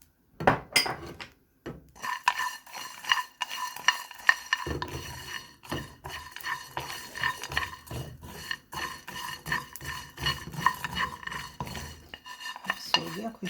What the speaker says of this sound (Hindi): अब हम इसे ड्राई रोस्ट करेंगे।